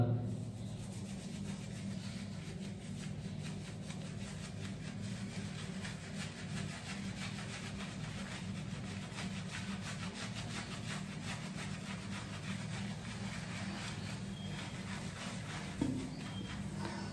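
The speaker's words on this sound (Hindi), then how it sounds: "Let's make the lather." A Bella Vita shaving brush whips The Man Company shaving gel into lather, making a steady, rapid, close swishing and rubbing that runs without a break.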